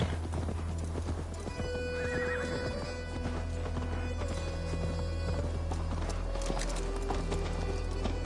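A horse in Assassin's Creed Valhalla clip-clops along steadily and lets out a whinny, hoofbeats continuous over a constant ambient game hum and music.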